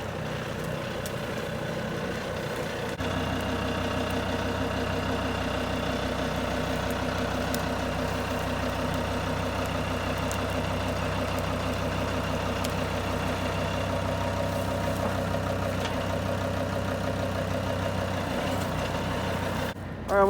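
Truck engine idling at a tree-felling job, a steady, constant low rumble close by that runs unchanged for about twenty seconds, a brief click marking the start and a small knock near the end.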